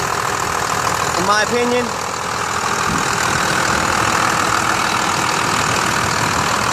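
A 1996 Dodge Ram 3500 with the 5.9L Cummins inline-six diesel idles steadily under the open hood, a loud, even rumble with a brief voice speaking over it early on.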